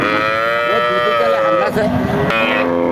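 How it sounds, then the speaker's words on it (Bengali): A calf at a cattle market in Chowgacha bellows in one long, loud, close moo that fills the whole moment, with the market's noise faintly behind it. "বাছুর এত ডাকতেছে কেন?"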